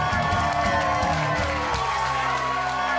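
A crowd cheers and claps as two competitive eaters walk through to the eating challenge ring at a Man v Food cheesesteak contest; the roar is dense and continuous, with voices mixed into the din.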